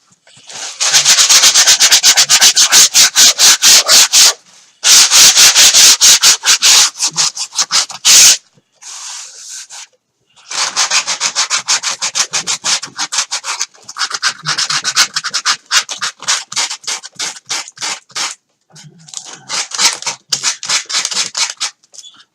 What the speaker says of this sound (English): We're just going to really quickly run some sandpaper over this wing and just rough up this foam a bit